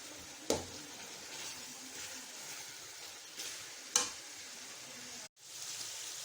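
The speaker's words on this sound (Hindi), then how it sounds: "चिकन अच्छे से भुन गया है।" Chicken pieces fry and sizzle in a pan for biryani, the liquid cooking down, with steady close hissing broken by a few sharp stirring scrapes and clatters.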